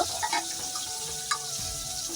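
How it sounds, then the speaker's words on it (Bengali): Fish rubbed with salt and turmeric frying in hot oil, a steady close sizzle with faint crackles and a few light clicks, no voices. "মাছটা ভাজা হতে থাকে"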